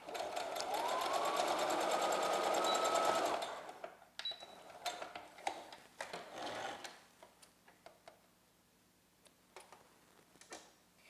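A sewing machine runs in one fast continuous burst while stitching a cloth face mask with fabric ties, then stops and leaves scattered clicks and light handling taps.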